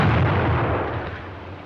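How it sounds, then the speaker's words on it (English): German WW2 stick grenade (potato masher) explosion: a single loud, broad blast whose rumble decays over about a second and a half, with no voices. "Being constructed to deliver a maximum blast effect, its explosion will stun rather than cause injury by fragmentation"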